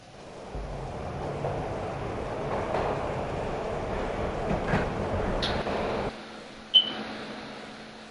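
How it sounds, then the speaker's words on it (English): A steady rumble of a train ride in the video game Max Payne, with broad rolling noise that cuts off near the end, followed by a single sharp metallic ping and a faint lingering hum. "This was my second train ride of the night."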